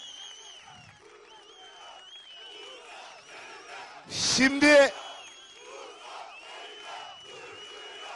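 A crowd erupts in a short, loud burst of cheering and shouts midway, over a murmur of voices and someone speaking, at the opening of a political election office in Turkey.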